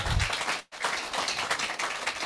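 An audience at a leadership orientation claps together in a dense burst of applause, briefly pausing before resuming steadily, moderately loud with no speech over it.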